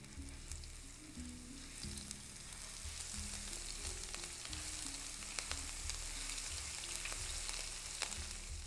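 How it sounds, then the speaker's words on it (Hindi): Ginger garlic paste fries in hot olive oil in a pan for shrimp biryani, a steady close sizzle with faint crackles and occasional soft stirring, no talking over it. "इसमें आपने 2 टेबल स्पून जिंजर गार्लिक का पेस्ट डाल देना है"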